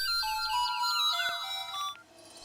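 An electronic phone ringtone plays a bright, bouncing melody of synthetic tones for about two seconds, then fades out.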